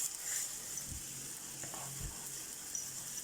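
Ampalaya and egg frying in a pan, a steady close sizzle broken by a few soft stirring scrapes and clinks, quiet with no talking.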